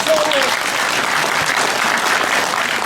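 A crowd at a political lecture in Korea applauds, with dense, sustained clapping that stays loud and steady throughout as a voice briefly rises at the start.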